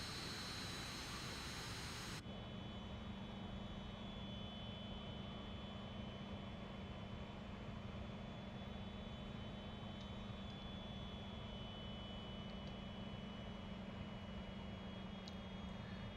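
In a flight simulator game, an aircraft engine holds a steady, even drone during a landing approach at reduced power, with a sudden drop in level just after the start.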